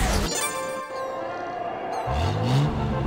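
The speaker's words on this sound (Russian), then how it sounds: "Вот это у него звук двигателя." A racing car engine in the kart racing game Sonic & All-Stars Racing Transformed, with a steady synthetic engine tone under game music, then a rising rev as the car accelerates near the end.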